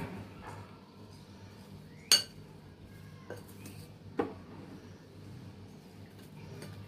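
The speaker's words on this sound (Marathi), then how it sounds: "व्यवस्थित असं मिक्स करून घ्या, त्याला सगळ्या ह्याला हे जे मिक्सर आहे ते कोट होऊ द्या व्यवस्थित" Spice-coated Madras cucumber (gudmakai) pickle pieces being mixed in a bowl, with a few sharp, separate spoon clinks against the dish over a quiet background and no talking.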